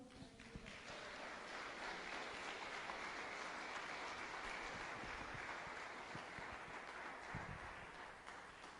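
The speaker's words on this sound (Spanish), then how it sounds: "¿Puedes darle otro aplauso?" A church congregation breaks into applause, a broad, steady wash of many hands clapping together that holds at full strength from start to finish.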